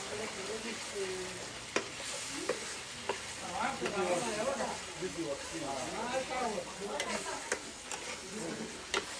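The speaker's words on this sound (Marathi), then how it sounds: "आता हे मसाले चांगले एकत्र करून घेऊया" Spices with salt and turmeric are stirred together in hot oil in a pan over a wood-fired stove, a close sizzle broken by scraping strokes and sharp taps, with a person talking throughout.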